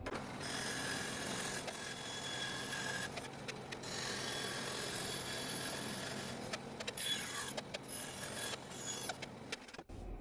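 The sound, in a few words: old Craftsman bandsaw cutting wood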